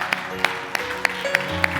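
A church congregation claps their hands together in a steady rhythm, six sharp claps spaced evenly over a soft background of music and voices.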